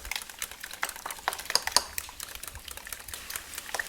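Eggs with flat leaf parsley are whisked in a bowl, giving quick, light rhythmic clicks of the whisk against the side, close and fairly soft.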